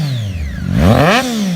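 A Triumph Daytona 675R motorcycle engine winds down, then surges into a single quick rev and settles to a steady idle, loud and near, with no talking.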